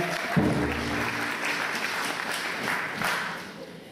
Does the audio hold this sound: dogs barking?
no